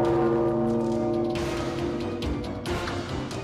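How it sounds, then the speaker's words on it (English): A bell tolls in the horror video game Corpse Party, with sustained ringing tones layered over steady game music and rising swells of noise, loud and continuous with no speech. "How many times can that bell toll?"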